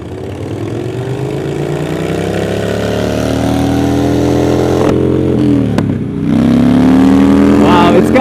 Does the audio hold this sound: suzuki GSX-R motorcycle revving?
yes